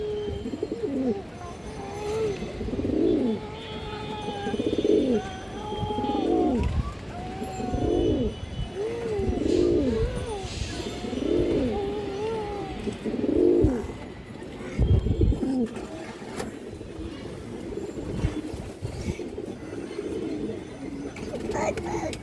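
Old-breed Palla line pigeons coo close by in a rhythmic series of about seven rolling, throaty phrases, followed by quieter, scattered rustling and bird sounds.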